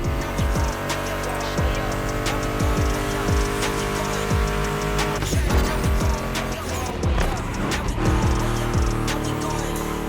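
American muscle cars such as a Mustang GT race in The Crew Motorfest, set in Hawaii, with engines droning steadily and rising and falling through gear changes, sharp bursts and squeals, and a music track playing underneath.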